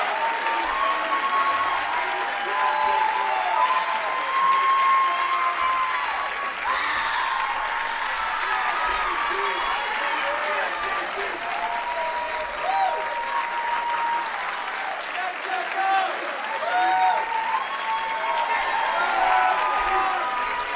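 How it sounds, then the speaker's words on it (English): Sustained applause from a large audience at an outdoor-style school commencement ceremony, steady and full throughout with a few faint cheers mixed into the clapping crowd. "Let's give another round of applause for Dorothy"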